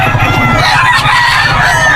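A young gamecock stag crows loudly and close at the Bocaue pet market, a drawn-out strained call over clucking and other fowl nearby, with a voice faintly in the background.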